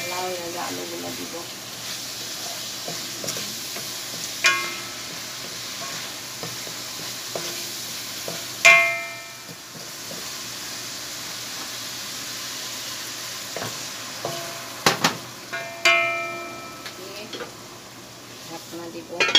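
Potatoes fry in a pan for a lau koi fish curry, a constant close hiss broken by scraping spatula strokes and a few sharp clatters of utensil against metal.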